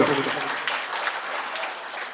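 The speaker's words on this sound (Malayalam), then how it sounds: "തിരുവാതിര ഞാറ്റുവേല കയ്യടിയാണ്, ഉഷാറായിട്ട്." An audience at the state-level inauguration of a Thiruvathira Njattuvela farming event claps in a brief, steady burst of applause.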